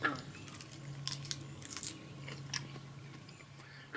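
Grand Rapids lettuce leaf being bitten and chewed close to the mic, a few crisp crunches and moist chewing bursts in an irregular rhythm over a quiet low hum.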